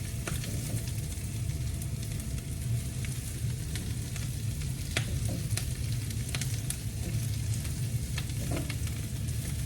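Arugula stirred into a hot pan for a breakfast strata, with a steady loud sizzle and frying crackle throughout, scattered faint scraping clicks from the stirring, and no voices.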